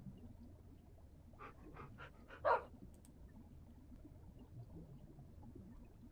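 Dogs in the Minecraft Tekkit modpack give a short series of faint yips and barks, ending in one louder bark, over a low steady game background.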